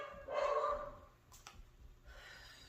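Dogs barking indoors, one loud burst of barking followed by quieter, fainter yaps and breathing-like noise in the background.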